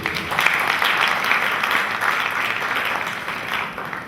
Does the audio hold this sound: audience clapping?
yes